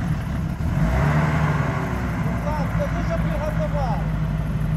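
Off-road GAZ-66 Shishiga truck engine revving and droning steadily close by, loud and continuous, with people talking over it.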